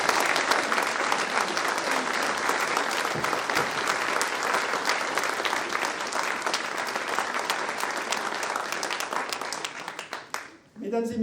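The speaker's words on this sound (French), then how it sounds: "On peut, je pense, les applaudir." Sustained applause from a crowd at a mayor's New Year address in Tarnos, honouring volunteers, steady and full for about ten seconds before tapering off near the end.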